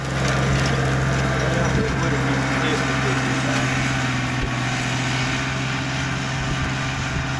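A John Deere tractor, a 3320 or 3033R, pulls an antique disk harrow across a plowed dirt plot, making a steady, loud engine drone with low rumble and rattling scrape that continues throughout.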